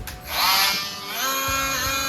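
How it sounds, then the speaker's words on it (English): A small Ridgid battery-powered detail sander whirs with a high buzzing whine. It rises in pitch, dips briefly, then holds a steady run. "a really powerful, good, nice detail sander"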